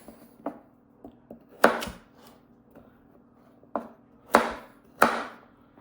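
A Swisstech Stählern knife with AUS8 steel blade chops through a vegetable on a board, giving several sharp, close knocks at irregular intervals, some louder with a brief crunch, over a faint steady background hum.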